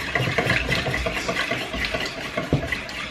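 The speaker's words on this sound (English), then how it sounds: "Then we simmer it for 5 minutes." Sauce for Crown Royal glazed meatballs, with red pepper flake, simmers over turned-up heat, a steady, close bubbling sizzle that fills the whole moment with no talking.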